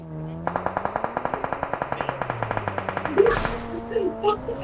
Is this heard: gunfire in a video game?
yes